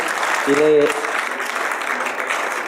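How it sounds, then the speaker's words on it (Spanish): Audience applause for a presenter at an education panel on physical education assessment, a brief voice then a steady moderate clapping that continues throughout. "un fuerte aplauso para la licenciada"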